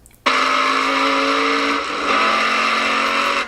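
A hillclimb race car accelerates hard up the Simola hill course, its engine a loud, sustained close roar that starts abruptly and holds steady with a brief dip as it shifts gear, no voices.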